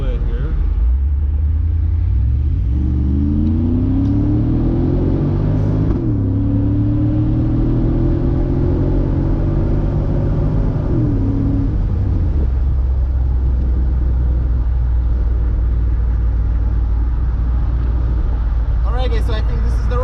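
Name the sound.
Mercedes-Benz 500SL R129 accelerating onto freeway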